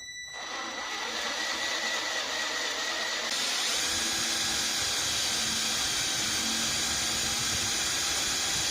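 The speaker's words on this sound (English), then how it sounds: "I'm using this titanium drill bit, which is plenty strong for this aluminum cylinder head" Titanium drill bit boring into an aluminum cylinder head on a Suzuki SV650 motorcycle: a steady whirring, hissing drill motor that starts abruptly and grows brighter and louder partway through, continuous and close with no talk.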